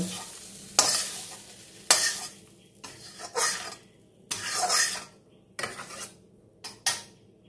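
Bottle gourd frying over a high flame, with loud bursts of sizzling and scraping as the pan is stirred at irregular intervals, each stroke rising sharply then easing back to a steady hiss.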